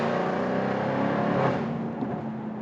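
A 2024 Jaguar F-Type R roadster's 5-liter supercharged V8 revs loud and close, a dense roar holding steady before easing off and dropping to a lower hum near the end.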